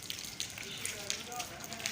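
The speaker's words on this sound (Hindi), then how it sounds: "ये देखिए आज 2 दिन से ना बारिश शुरू हुई है हमारे।" Steady rain falling outside a house, a soft continuous hiss with scattered pattering drops, fairly faint.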